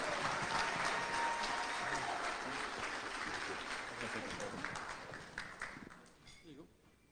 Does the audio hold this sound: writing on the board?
no